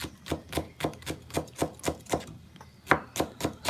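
A knife chops snap peas into thin strips on a cutting board in a steady, close rhythm of about a dozen crisp knocks, loud and alone.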